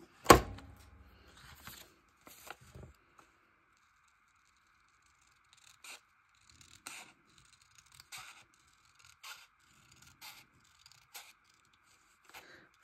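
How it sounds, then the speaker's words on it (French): Scissors snip through paper close by in short, irregular cuts spread across the clip, each one quiet and crisp, with pauses between. "je vais sortir mes ciseaux magiques"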